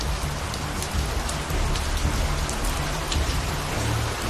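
Heavy monsoon downpour in northern India, a dense, steady roar of rain drumming on surfaces with a low rumble underneath, loud and unbroken throughout with no voices.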